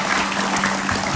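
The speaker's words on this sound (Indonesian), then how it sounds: "kita berikan tepuk tangan." A TV studio audience applauds in a dense, steady wash of clapping that fills the whole moment, loud and close.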